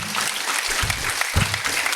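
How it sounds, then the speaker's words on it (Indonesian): Lively applause from an iftar gathering audience for Habib Jafar, a dense burst of clapping throughout, fairly loud and close. "Baik semua, mari berikan tepuk tangan yang meriah"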